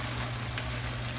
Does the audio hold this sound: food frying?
yes